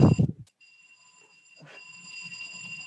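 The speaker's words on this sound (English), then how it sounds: "there is a fantastic alarm that is ringing in my building" A building alarm rings with a steady high-pitched electronic tone, heard faintly in the background after an opening thump, continuing alone and growing slightly more prominent toward the end.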